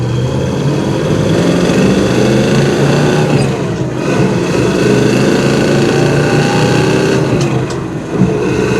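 A 1969 Chevrolet Nova pulls away on a test drive, its engine note rising and falling as it accelerates, loud and close from inside the car with road rumble beneath.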